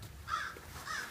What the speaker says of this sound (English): This stupid crow over here is going crazy.